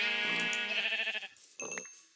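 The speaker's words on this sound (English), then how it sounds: "I am going to kill the sheep because it has a hat." A sheep in modded Minecraft bleats twice, a loud drawn-out wavering cry and then a shorter one, close and without talk.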